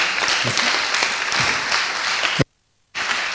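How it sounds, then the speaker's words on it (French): Conference audience applauding after a talk, dense sustained clapping from a seated crowd that cuts abruptly to silence for about half a second before resuming at the same level. "on peut encore applaudir"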